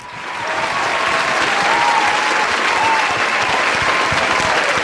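Steady, dense applause from an audience at a virtual corporate event, rising quickly and holding evenly for several seconds with no voices over it.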